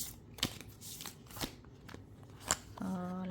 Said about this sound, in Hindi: I will not cut the shuffling part